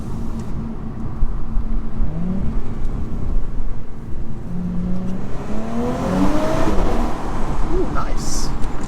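A 2017 Audi S4 engine and exhaust pulling steadily from inside the car while driving, a moderate broadband drone with rising tonal sweeps under occasional talk.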